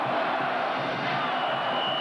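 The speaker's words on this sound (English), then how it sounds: "This crowd is really alive." Stadium crowd at a 1982 Alabama vs Texas college football game, a dense continuous roar of cheering voices that stays steady and fairly loud across the moment, with no single voice standing out.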